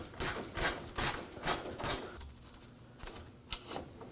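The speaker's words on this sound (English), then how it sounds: "we're gonna be removing the 10mm bolt using the 10mm socket" A ratchet on a 10 mm socket loosens a radiator bolt on a 2014-2020 Acura MDX, giving five loud, evenly spaced clicking bursts up close, then quieter scraping and a final faint click.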